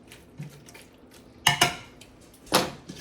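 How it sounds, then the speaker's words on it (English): Metal utensil scrapes and clinks against a pan of frying bacon in a few sharp strokes, with a faint background hiss between them. "break up the pieces, little chunks, stir them around, break them up a little bit"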